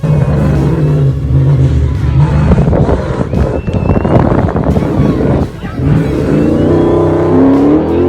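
A V8 race car engine revs hard and roars continuously nearby during the Battlefield 400 off-road race, pitch rising and falling with wind buffeting, and a voice talking faintly under the noise.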